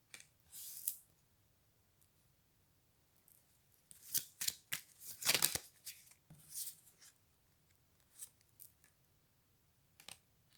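A card is drawn from a deck, with a short burst of rustling followed by a cluster of crisp card-shuffling and sliding noises. Quiet pauses separate the clusters, and the sounds are close and fairly loud.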